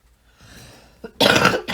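A single rough cough bursts out after a faint breathy throat sound, close and loud, followed by a brief second exhale.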